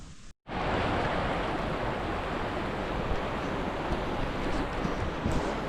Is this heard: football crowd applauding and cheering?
no